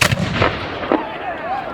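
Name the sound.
reenactment 12-pounder artillery cannon firing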